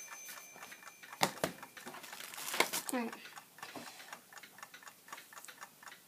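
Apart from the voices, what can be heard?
old wind-up clock ticking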